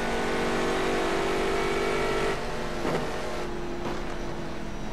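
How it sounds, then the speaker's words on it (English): A GT1 race car in rFactor 2 roars past on the start-finish straight at Silverstone, a loud sustained engine drone that swells and then drops in pitch as it goes by, with no voices. "the lead GT1 car passed me down the start-finish straight"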